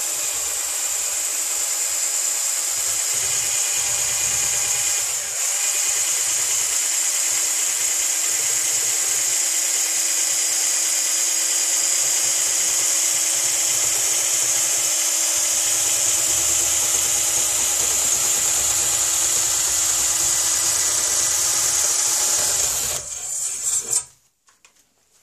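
A drill spins a slotted steel rod wrapped in 400-grit sandpaper inside a scratch-built swivel breech rifle barrel, a steady close whine with rubbing grit that runs unbroken for about 23 seconds and then stops.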